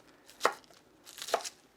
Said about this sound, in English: And come over here and slice long ways.